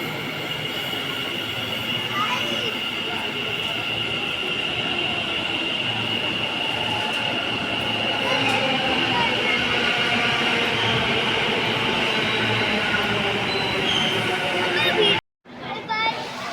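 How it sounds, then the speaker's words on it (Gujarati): A train rumbles steadily at Kalupur railway station, with a continuous rolling hum and faint wheel squeal under a busy platform, loud and close throughout, with a brief dropout near the end. "પવ્યમભાઈ ટ્રેનમાં બેસી ગયા છે બિલીમોરા જવા."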